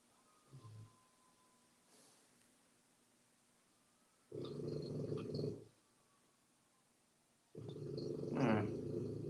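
A dog growls in two long, rumbling bursts at close range, separated by a quiet pause, with a brief low grumble near the start.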